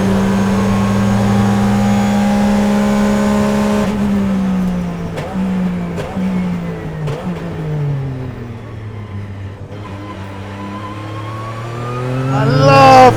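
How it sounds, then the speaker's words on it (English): A 2004 Porsche 996 GT3 RSR race car, a rare ex-works example, revs hard on the Red Bull Ring circuit, its loud engine note rising and dropping through quick gear changes before climbing again. "Right, 2004 Porsche 996 RSR. Let's see what it's like."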